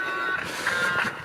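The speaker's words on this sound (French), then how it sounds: "Je vais laisser passer le camion." A truck passing on a country road while a walker waits, its steady high reversing beeps sounding over the low engine rumble, fairly close and continuous.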